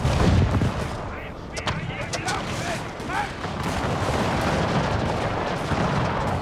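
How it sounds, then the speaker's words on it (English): Musket volleys crackle and boom in a Pike & Shot Total War multiplayer battle, a dense, continuous rumble of overlapping gunfire that holds fairly loud throughout, with a voice talking over it. "We've got the Musketeers blasting off against"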